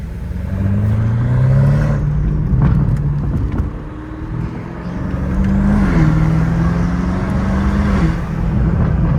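A loud twin-turbo BMW M5 F90 Competition with full titanium exhaust and downpipes revs up and settles repeatedly, a rising turbo whistle riding over the deep exhaust note, close and continuous.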